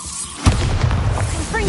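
A Bombarda explosion spell going off in Hogwarts Legacy, a sudden loud boom followed by a rumbling blast tail that lingers.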